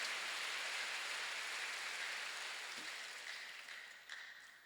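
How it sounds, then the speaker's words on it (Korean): A church congregation claps hands hard during worship, a dense wash of applause that stays steady and then slowly fades, with no voices heard over it. "박수 세게 치세요"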